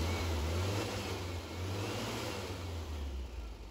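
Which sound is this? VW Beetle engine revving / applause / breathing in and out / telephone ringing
VW Beetle engine revving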